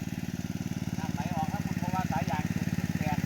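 A small engine powering a water pump in a rice field chugs steadily at a fast, even idle rhythm close by, while a person talks over it.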